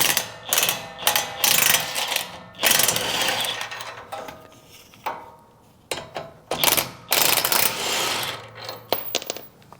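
A ratchet clicks in quick bursts as bottom nuts come off the front suspension of a Toyota Tacoma, with short pauses between runs, close and clear.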